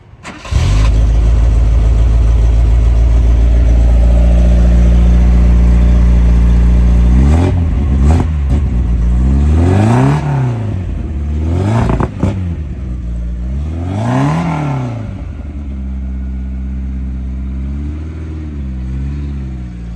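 BMW E30 M3 sedan with an M10 engine starts and idles loudly up close, then is revved in a series of sharp throttle blips that rise and fall, several quick ones followed by longer sweeps, settling back to a steady idle.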